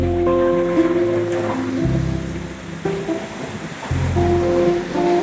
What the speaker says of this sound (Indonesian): Hujan masih sangat deras